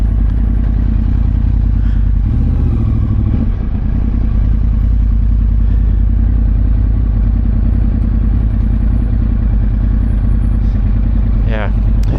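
A Yamaha R1 motorcycle rides through London streets, its engine a steady, loud drone that runs continuously throughout with a rider's voice over it.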